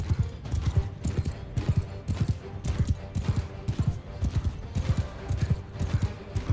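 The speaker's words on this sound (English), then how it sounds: "I'm so slow on this horse, I won't be able to get to him" A horse trotting in Mount & Blade II Bannerlord, a steady rhythmic clip-clop of hooves repeating about twice a second, loud and close throughout.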